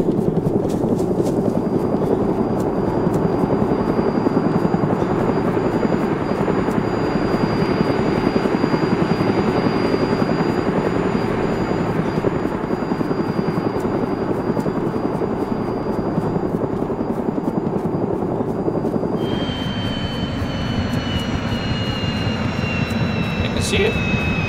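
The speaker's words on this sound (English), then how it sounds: "There's a helicopter flying." In the survival game DayZ, a helicopter drones steadily overhead for the whole stretch, a loud continuous rotor roar whose tone shifts partway through as it moves, while a player talks over it.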